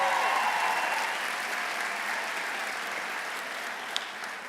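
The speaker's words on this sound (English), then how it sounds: "Do you want to give yourselves a round of applause?" Graduating students at a spring commencement ceremony break into broad, steady applause from a large crowd, loud at first and slowly tapering across several seconds, with one sharp clap standing out near the end.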